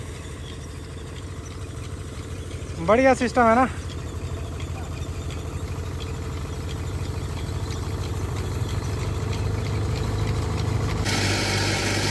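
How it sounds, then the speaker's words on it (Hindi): A diesel engine drives a grain threshing machine in Himachal's Banjar Valley, giving a steady, droning mechanical hum that runs unbroken throughout, with someone briefly speaking over it. "ये डीजल वाला इंजन है"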